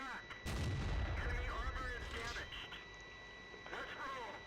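In the World of Tanks video game, a shell slams into the side of a Centurion 7/1 with a heavy, booming impact near the start, followed by rumbling game effects while a voice talks over the action.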